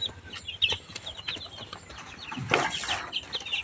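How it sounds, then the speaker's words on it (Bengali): Chickens cluck repeatedly on a farm, several birds nearby making short overlapping calls and a louder burst, with a brief flutter and ambient farmyard noise. "এই যে আমার মুরগিগুলো দেখছেন আমার দেখে সব দিন চলে আসছে"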